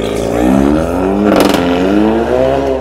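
A Skoda Octavia 1.4 fitted with a split straight-through exhaust revs loudly and up close, its harsh engine note rising and falling as one sustained, sharp blare.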